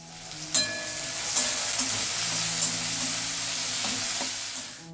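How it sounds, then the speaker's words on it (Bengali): Potatoes frying in a pan for khichuri, with a steady close sizzle broken by a few sharp stirring clinks and scrapes. "তো এখানটা একটুখানি আলুও ভেজে নিচ্ছি তার জন্য"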